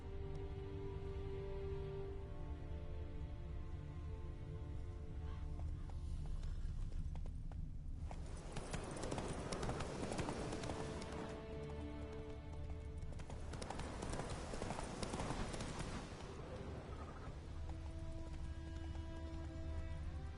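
Video game horse Roach's hooves clip-clop at a steady gallop, with two louder bursts of running mid-way over continuous background game sound; no talk.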